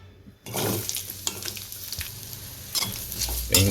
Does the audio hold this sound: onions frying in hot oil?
yes